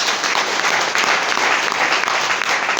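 An audience claps steadily at a motivational business seminar, a dense sustained wash of applause from many hands filling the room without pause.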